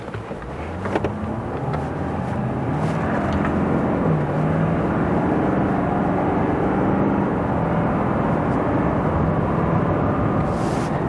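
2024 Ford F450 Limited truck accelerating hard with wheels briefly spinning, a steady engine roar that builds in intensity over several seconds, heard from inside the cab.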